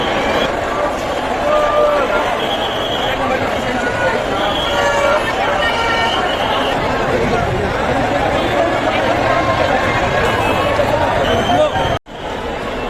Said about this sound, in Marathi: तिकडे असं वाटत नाही आता पायपडा भेटेल तर गर्दी पण खूप आहे एकदम